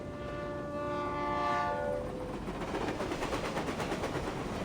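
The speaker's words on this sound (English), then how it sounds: "And why is the stupid train never on time?" A train in Reverse 1999 sounds its horn in a long sustained blast that fades, then the rumbling, rhythmic clatter of the cars rolls on loudly with no voices.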